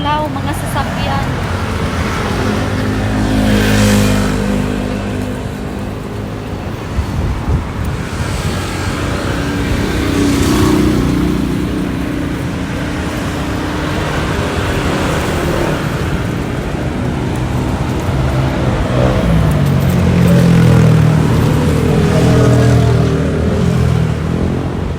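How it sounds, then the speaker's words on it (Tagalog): Dense street traffic of cars and motorcycles passes steadily as people walk along the roadside, a constant roadway rumble with passing engines swelling and fading throughout, while voices talk over it. "Sobrang sulaw mga sasakyan."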